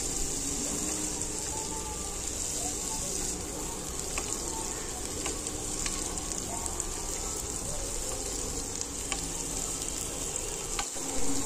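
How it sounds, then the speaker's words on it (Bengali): Cashews and raisins, soaked beforehand, frying in oil for Bengali-style fried rice, giving a steady moderate sizzle with scattered light crackles and stirring ticks throughout. "কাজু কিশমিশ লাল হয়ে যাওয়া পর্যন্ত আমরা এগুলোকে একটু ভেজে নেব"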